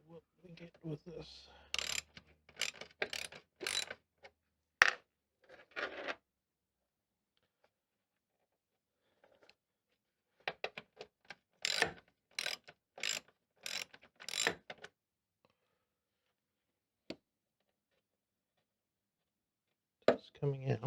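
Bursts of rapid ratchet clicks from a tool unscrewing a part on a 1966 Triumph Spitfire 4 Mk II during screen washer fitting, close and fairly quiet, in two main runs separated by silence, with a few isolated clicks.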